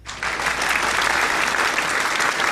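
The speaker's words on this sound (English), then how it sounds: "Please welcome a round of applause for Erin Winick." A crowd applauds for a guest at a Twitch livestream on International Space Station science, steady dense clapping that starts abruptly and holds at full strength throughout.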